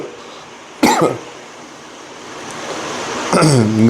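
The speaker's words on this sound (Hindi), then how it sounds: "खांसी चल रही है, काफ़ी दिन से कफ जमा हुआ है।" A man with a congested chest gives two separate harsh coughs, a loud one early and another near the end, close to the microphone over a quiet background hiss.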